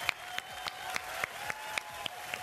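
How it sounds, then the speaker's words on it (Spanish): Studio audience applause on a television show, heard as a handful of sharp, evenly spaced claps at a quick, regular rhythm, fairly close and moderately quiet. "¡Aplauso!"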